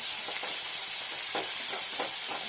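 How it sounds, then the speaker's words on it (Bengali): Small bata fish sizzling in hot mustard oil, a steady close frying hiss with soft bubbling pops rising at intervals, no voices. "ভেজে নেওয়া হচ্ছে"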